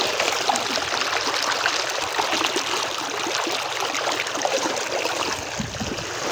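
A clear river flowing past a path to farm fields, heard as a steady, broad rush and trickle of water throughout, fairly close, with no voices.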